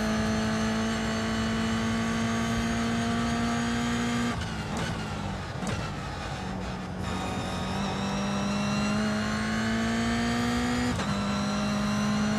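Toyota GR86 race car engine on the opening lap at Oulton Park, a loud steady onboard drone holding high revs, dropping sharply through gear changes and braking before climbing again, with no talking.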